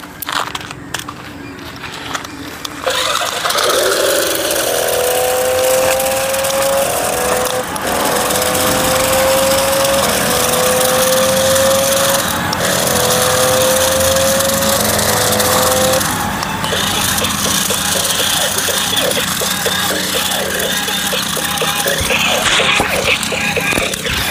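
A roughly ₹3700 extreme RC toy car driven on a road gives off a loud, continuous buzzy motor roar, with a stepped electronic tone sounding over it for several seconds.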